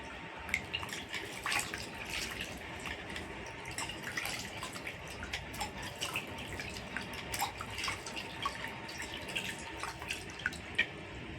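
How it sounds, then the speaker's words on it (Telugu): Cut vegetable being washed in a water-filled vessel, with soft splashing and dripping trickles continuing steadily at close range, quiet and without any talk. "ఇది మళ్ళీ వాటర్లో కడుగుతున్నా"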